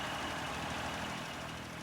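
A small farm tractor engine runs steadily while working in hilly ground, a continuous low rumble at constant level with a broad noisy drone and no speech.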